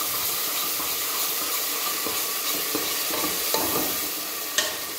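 Garlic and ginger frying with cumin seeds in a hot pan sizzle and hiss steadily, with occasional stirring clicks and scrapes close by.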